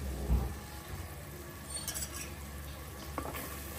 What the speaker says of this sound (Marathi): आता थोडं मसाल्याला आपण शिजायला ठेवून देऊ